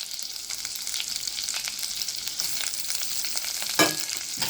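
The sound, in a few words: crushed garlic and onion frying in oil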